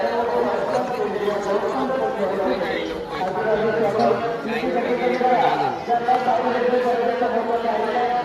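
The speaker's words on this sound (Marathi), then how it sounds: "बघता बघ कसं गर्दी बघू शकता तुम्ही फुल पॅक आहे आज" A packed crowd fills the grounds of the Aai Ekvira temple, a thick, steady wash of many overlapping voices nearby, with a close voice speaking over the hubbub.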